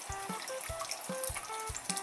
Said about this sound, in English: So when it rains, the water can filter down through the rock and eventually it can drip right on top of us.